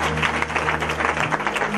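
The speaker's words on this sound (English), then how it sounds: "Come on, clap for Jesus, somebody." Congregation at a church outdooring ceremony clapping together for Jesus, a dense, steady wash of many hands over a low droning hum, lasting the whole stretch with no pause.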